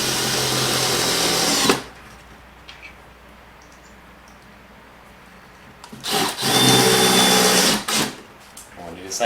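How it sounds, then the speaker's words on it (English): Power drill driving two 1 5/8-inch screws into wood while building a farmhouse table: one loud burst near the start, then quiet, then two longer whirring runs near the end, close up. "I'm going to take 2 1 5/8 screws and attach it."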